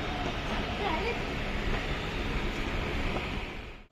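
A steady, loud rushing rumble of a moving train fills the space continuously, fading slightly at the very end.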